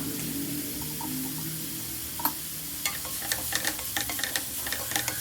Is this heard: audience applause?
no